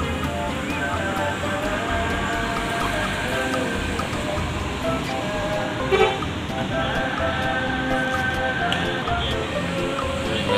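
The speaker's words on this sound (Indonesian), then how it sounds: "Salenda double decker masuk ya." A double-decker bus pulls into a busy bus terminal during the Christmas and New Year holiday rush, its engine rumble blending into steady loud traffic noise, with a horn toot and voices of people talking around it.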